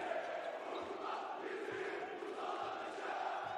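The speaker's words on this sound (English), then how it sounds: "Listen to the crowd here in Istanbul. Besiktas fans bringing the noise." Besiktas basketball fans roar inside an Istanbul arena during a women's EuroCup final, a sustained, distant crowd din with shouting swelling and settling throughout.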